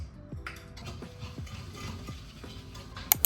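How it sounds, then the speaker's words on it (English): Sugar being whisked into butter in a bowl for cookie dough: quiet, rhythmic scraping clicks of the whisk repeat several times a second, close by, with no talking. "I'm gonna add the sugar to the butter and whisk it."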